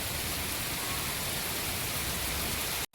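Steady dense rain pours down as a loud, even hiss filling the whole stretch, cutting off abruptly near the end.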